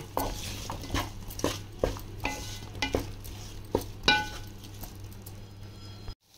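Baby corn being stirred in a pan: a spoon scrapes and clinks against the metal in a steady rhythm, about a dozen close strokes, over a faint background hum.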